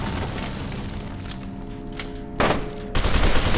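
Gunfire in the shooter F.E.A.R. 2 crackles through a busy battle, with scattered shots and then two sharp, loud bursts near the end.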